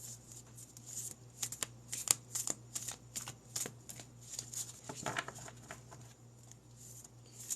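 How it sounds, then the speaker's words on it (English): Tarot cards being shuffled close up, a steady run of soft riffling and papery flicks over a low constant hum, with no talking. "Let me pull some cards for clarity."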